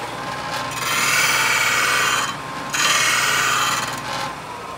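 A lathe turning chisel being sharpened on a Shopsmith sharpening guide gives two sustained close grinding passes of about two seconds each, split by a short break, and no one speaks.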